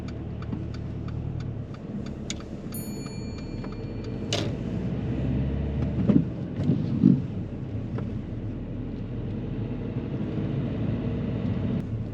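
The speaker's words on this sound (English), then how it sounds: "drive off when you're ready." During a driving lesson, a car pulls away with a low, steady engine hum inside the cabin, joined by indicator ticks and a couple of brief knocks and clicks.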